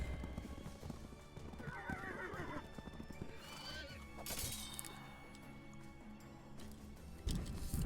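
Cavalry horses in the strategy game Wargroove whinny and neigh over a busy patter of clip-clopping hooves, with faint crashing battle effects and a soft voice underneath.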